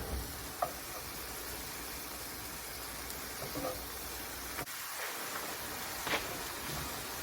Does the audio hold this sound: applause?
no